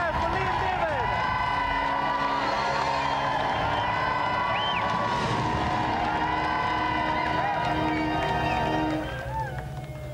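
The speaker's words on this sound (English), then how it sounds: "Another round of applause there for Lee and David." Studio audience on a game show cheering and applauding, a steady dense roar of crowd noise throughout, loud and continuous, easing slightly at the end.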